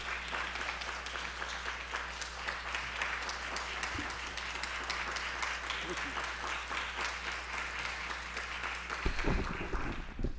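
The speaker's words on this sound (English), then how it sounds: "Please give another round of applause for Mr. Jones." Sustained applause from an audience at a race relations community event, honoring a man who has just told his story; dense, even clapping runs throughout with a low steady hum beneath.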